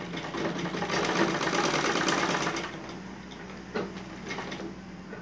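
A sewing machine runs steadily while stitching a pant, a close, continuous mechanical whir that eases slightly partway through, with a brief knock near the end.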